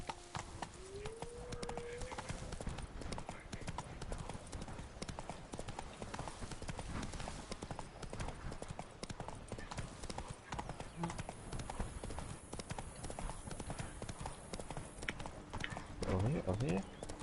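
Horse hooves clip-clopping at a steady gallop in The Witcher 3: Blood and Wine, a continuous rapid rhythm running throughout alongside game ambience, with a brief whinny near the start and a voice over it.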